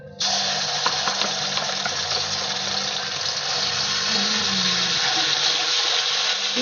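Ingredients hitting hot frying oil for Indonesian ayam masak kecap, a sudden start into a steady, loud, hissing sizzle that holds evenly throughout without letting up.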